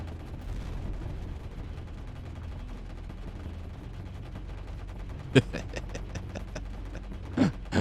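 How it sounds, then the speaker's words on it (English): Guns firing in a space combat video game, heard as one sharp shot followed by a rapid burst of repeated blasts and then a heavier boom, all over a low steady engine hum. "And here come all my guns online."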